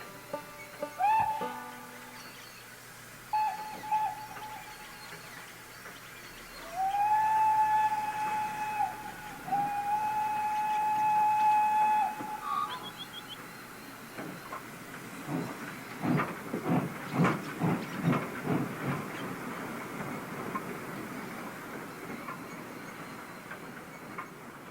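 A steam train whistle on a branch line sounds several times from far off, in clear sustained blasts, followed by a rhythmic chuffing and a hissing rush of steam that swells and fades.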